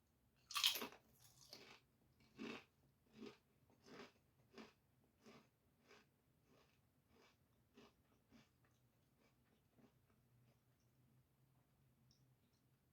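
Great Value sour cream and onion potato chips crunch between the teeth close to the mic. A sharp first bite is followed by a long run of steady, rhythmic chews that grow softer and quieter as they go.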